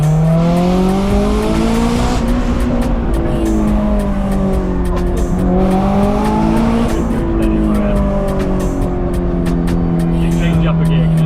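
A Honda S2000 sports car, rebuilt after sitting broken for six years, drives along with a steady engine drone that rises and falls in pitch as it pulls, close and loud throughout, with someone talking over it.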